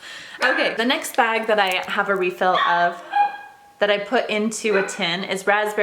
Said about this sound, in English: If you hear my dogs in the background, they are anxiously waiting for me to go play with them